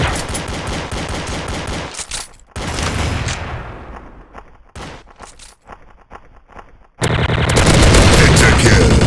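Rapid bursts of TMP submachine gun fire in a Special Ops video game at a Deluxe Fest event, loud and dense, broken by short pauses, with game voice announcements mixed in.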